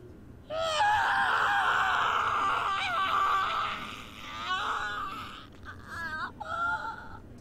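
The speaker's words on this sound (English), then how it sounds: "I scream until my throat is..." A Steins;Gate visual novel character screams in pain after driving fingers into a wound, a loud sustained wailing cry with strained, wavering pitch that breaks off and returns in shorter anguished moans toward the end.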